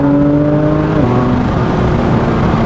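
A Porsche 992 GT3 RS engine under way, a loud, close mechanical drone that drops in pitch abruptly about a second in as the car shifts, then holds a steady rumbling whir to the end.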